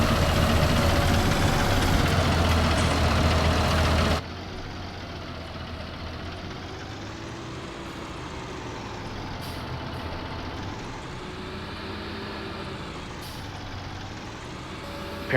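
A tractor engine in Farming Simulator 19 drones steadily throughout, loud at first, then duller and quieter as if heard from inside the cab, with a low continuous hum and slight swells.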